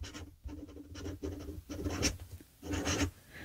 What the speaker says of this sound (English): this writes like a fine pointed nib in reverse and no problems